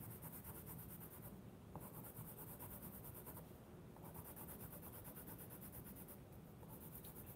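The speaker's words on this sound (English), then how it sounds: "Doing the same, putting pressure to my pencil." A cheap colored pencil, pressed hard and rotated, rubs over paper in soft rasping strokes, quiet and close, with brief pauses between passes and no talking.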